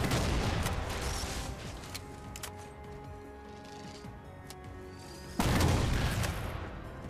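Railgun shots from Halo 4 gameplay, with loud bursts of gunfire cracking over a constant booming battle din and a second heavy blast near the end, no voices.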